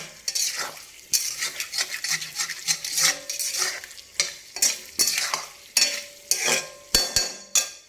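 Potatoes with onion fry in a pan, a steady sizzle broken by repeated scraping strokes of a ladle that stirs and pushes at pieces sticking to the base. The strokes are close and loud, with a few sharp metal knocks near the end.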